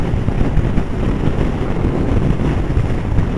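A Honda Blackbird or Gen2 Hayabusa motorcycle pulls a sixth-gear roll-on from 80, buried in loud, constant wind roar and engine drone from the moving bike, with no voices.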